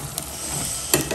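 Green salsa with chicharrón pork cracklings bubbles and sizzles in a pot, a steady close crackling hiss with a couple of brief sharper pops, no voices.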